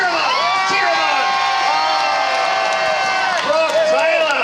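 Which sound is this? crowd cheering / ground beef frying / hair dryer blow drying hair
crowd cheering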